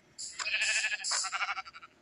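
A Minecraft sheep bleats once, a single loud wavering baa that trails off in quick pulses, alone and close.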